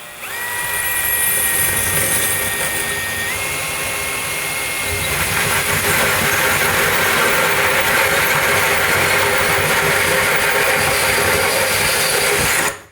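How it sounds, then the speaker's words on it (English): Hole saw with a pilot drill bit boring through subway tile on a backsplash, a loud continuous power-drill whine that changes pitch as the bit bites, joined by steady grinding that runs right to the end. "Now, this particular hole saw has a pilot drill bit as well."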